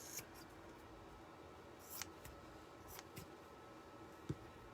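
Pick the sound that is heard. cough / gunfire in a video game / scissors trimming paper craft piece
scissors trimming paper craft piece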